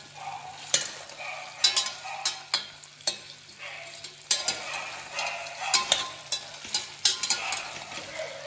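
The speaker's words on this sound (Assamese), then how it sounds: "মিডিয়াম ফ্লেমত ফ্ৰাই কৰিব লাগিব" Potatoes frying with salt over a medium flame in a pot for mutton chana pulao, with a steady sizzle broken by repeated scraping stirs of a spoon against the pan.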